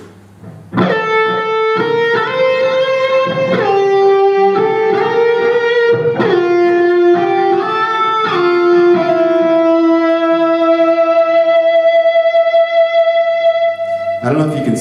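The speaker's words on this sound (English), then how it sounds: "I slide from a lower note up to a higher note," Distorted electric guitar sliding smoothly between notes, gliding up and down, then settling into a long sustained note with vibrato before a final strum.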